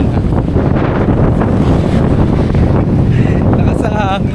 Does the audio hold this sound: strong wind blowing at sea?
yes